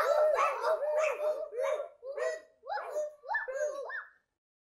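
A voice imitates a dog barking, a string of about seven yappy woofs in quick succession, close and clear with no other sound.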